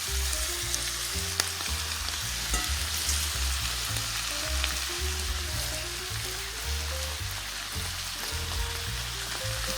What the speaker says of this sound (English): Now you can continue to add the rest of your cabbage.